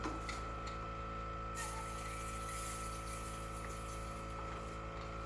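Water being applied to a quartz countertop before polishing, a steady pouring or gushing wash heard close up over a constant mechanical hum, with no talk.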